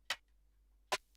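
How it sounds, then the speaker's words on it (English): Two crisp snare drum sample hits from Ableton Live's Impulse drum sampler, spaced under a second apart, sharp and bright with short decay and no talking. "You've also got snare"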